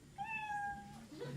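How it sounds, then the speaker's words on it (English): A single high, drawn-out kitty meow sound effect rings out clearly for just under a second, followed by a faint low murmur. "you know your 60 seconds is up when you hear the sound of a kitty"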